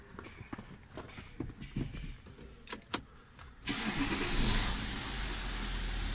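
An Audi A6 engine cranks and catches after a stretch of clattering handling noise, then settles into a steady, fairly loud idle close by.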